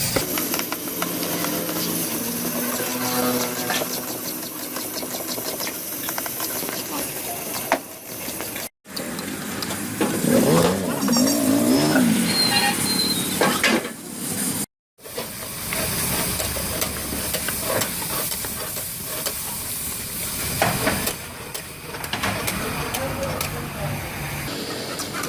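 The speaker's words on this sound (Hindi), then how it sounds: "ये अब हम इसके अंदर अदरक डाल रहे हैं जी, लंबी लंबी काटी है।" Mutton karahi with green chilies and long-cut ginger sizzles in a wok at a Lahore restaurant, giving a loud, continuous steamy hiss throughout. Speech runs under the sizzle.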